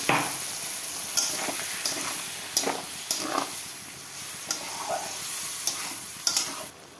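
Ground spice paste for a fish curry frying in a pan, a steady soft sizzle with intermittent scraping stirs and small clicks of the spoon, fairly quiet and close.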